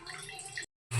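Tap water running steadily into a vessel for washing a deity idol, a soft close stream that cuts out briefly and then resumes louder.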